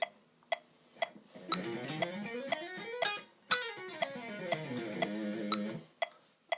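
A fast, smooth electric guitar legato run, three notes per string at six notes per click, rising and falling over steady 120 bpm metronome clicks, with sparse clicks alone at the start and end.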